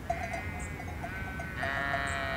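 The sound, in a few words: sheep bleating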